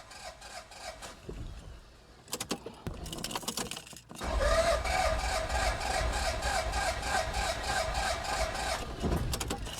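A car engine cranks on power from an AUTOONE JS02 6000A portable jump starter: rhythmic grinding bursts come first, then a loud, continuous churning crank that runs on without catching.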